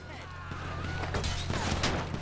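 Police gunfire in the video game GTA 5, rapid overlapping shots building into a dense fusillade across a couple of seconds, with game sound and a voice underneath.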